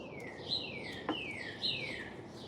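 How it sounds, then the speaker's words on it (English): Birds chirp nearby in a quiet room, several sharp descending whistles and tweets repeating every second or so, loud and clear. "And there are my birds. Now they're getting loud."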